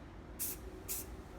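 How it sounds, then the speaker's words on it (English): Two short bursts from a spray paint can, each a brief sharp hiss about half a second apart, close and fairly loud against a quiet background. "Use small sprays, small strokes, if you will, using the spray paint"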